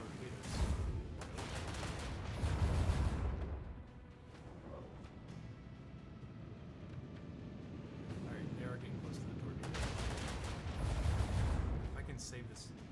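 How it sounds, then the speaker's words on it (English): Ship guns in the video game Rogue Trader firing at incoming torpedoes, two bursts of heavy booming gunfire separated by a quieter rumbling stretch. "They should start shooting the torpedoes."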